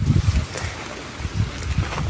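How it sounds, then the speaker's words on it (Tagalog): Wind gusts through a string-bean vegetable garden, buffeting the microphone in low, uneven bursts over a couple of seconds. "Ang hangin dito ngayon."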